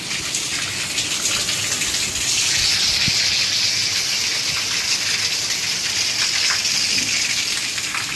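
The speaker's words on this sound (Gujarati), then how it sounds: "હવે તો વરસાદ ચાલુ છે જોરદાર" Heavy monsoon rain pours down in Junagadh, a steady, dense hiss of falling water that stays loud and even throughout with no voices.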